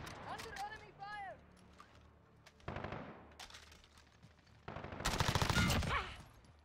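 Automatic gunfire in Modern Warfare crackles in two rapid bursts, the second louder and longer, with quieter game sounds between them and a voice talking near the start.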